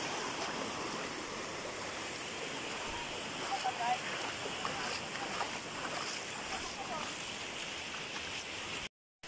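Sea waves wash onto a shore at Cagsao in Calabanga, Camarines Sur, as a steady, fairly faint rushing surge with no clear breaks, and nobody speaks over it.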